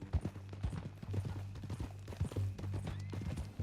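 Horse hooves clip-clop steadily in Red Dead Redemption 2, a close, rhythmic run of hoofbeats with a brief whinny-like tone mixed in, moderately loud.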